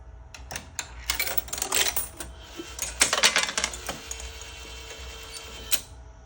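A Bonanza Million Dice arcade game machine runs with its cover removed, producing loud, close mechanical clatter, with rattling bursts, clicks and metallic ticks in irregular clusters over a steady hum and no talking.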